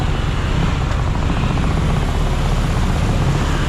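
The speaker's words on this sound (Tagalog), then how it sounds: "Malakas na ragasa o." Raging floodwater rushing through a street intersection in San Fernando makes a steady, dense roar that fills the whole clip without a break.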